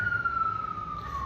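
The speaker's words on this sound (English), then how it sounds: "why do you always hear sirens here?" A siren wails outside, one steady tone that drifts slightly downward, heard at a moderate distance with faint background noise beneath it.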